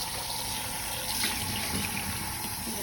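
A steady rush of water runs continuously from a tap while a hot pan is washed in a kitchen, close and even throughout with no talking.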